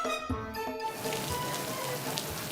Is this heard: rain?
yes